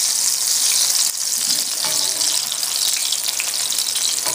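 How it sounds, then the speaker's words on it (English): Loud, continuous sizzling and crackling of crawfish fritters frying in hot oil, close up, with no voices. "Now we're frying them to cook them."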